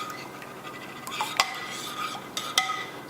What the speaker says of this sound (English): mix that up in the slow cooker here till it's all mixed in